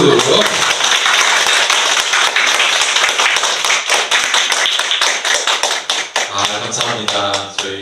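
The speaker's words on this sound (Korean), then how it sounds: "박수." Church congregation at an Easter Sunday service breaking into loud, steady rhythmic clapping that runs for several seconds before thinning out, with a voice and music coming in near the end.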